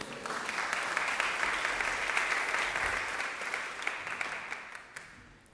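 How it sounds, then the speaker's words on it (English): A congregation at a Sunday service applauds its performers with steady, full clapping that holds at an even level and then tapers off at the end, with no voices over it. "I think we should give everybody a round of applause for doing that one so well"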